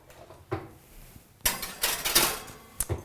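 A baking tray of teriyaki black bean burgers slides into an oven with a few sharp metallic clanks and scrapes, close and moderately loud, set apart by brief quiet gaps.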